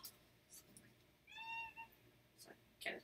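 A cat gives a single short, high meow at close range, faint over quiet background noise with soft clicks and shuffles around it.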